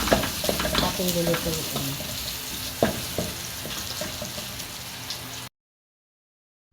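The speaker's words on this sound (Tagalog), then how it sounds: "I-brown muna natin ang mga aromatics para mas masarap." Lemongrass and aromatics sautéing in a pan for tinola, crackling sizzle with stirring knocks and scrapes, a voice briefly speaking over it early on before the sound cuts to silence near the end.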